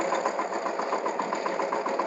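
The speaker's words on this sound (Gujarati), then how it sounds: "ટ્રેક્ટર એકદમ એમને હાલ્યું આવે છે" A mini tractor's engine runs steadily with a weeder attachment pulling through weeds in an intercropped field, a continuous mid-pitched chugging at close range with no talk.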